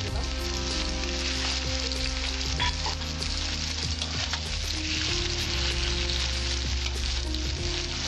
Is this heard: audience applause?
no